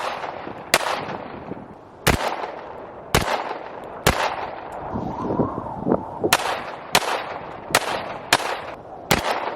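Video-game FNX-45 Tactical pistol fire in frozen Siberian woods: sharp single shots, about ten in all, spaced roughly a second apart with ringing decay between them, loud and close with no speech.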